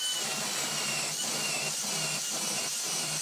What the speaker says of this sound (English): you drill with your wood bore or your hole saw, center it of course on your hole